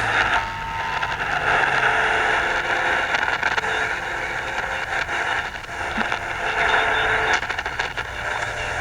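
Steady radio static hisses and crackles on a receiver as an external antenna is plugged and unplugged, with brief bursts and scraping clicks throughout.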